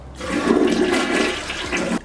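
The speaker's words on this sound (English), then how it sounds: "I'm going to turn off the water, flush my toilet" Household toilet flushing up close: a loud, steady rush of water that surges and drains for about two seconds, with no voices.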